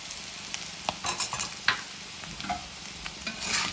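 Roasted baby potatoes, fried with curry leaves in a new ceramic pan, are stirred with a spice powder, giving soft scraping and clattering strokes over a steady low sizzle.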